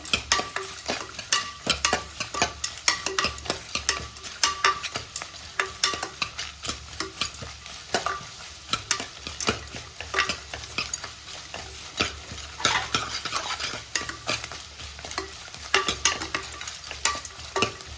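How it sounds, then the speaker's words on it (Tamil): A spatula scrapes and stirs ghee rice ingredients in a hot pan, with a soft steady sizzle underneath and irregular clinks and scrapes throughout, fairly quiet and close. "நல்லா எல்லாம் போட்டதுக்கப்புறம் நல்லா வதக்கி விடுங்க"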